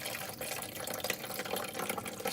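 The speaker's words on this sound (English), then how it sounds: "So I fill the tank by grabbing the water." A jar of water is poured into a kitchen machine's tank, giving a steady close splashing rush that lasts a few seconds, with no voices.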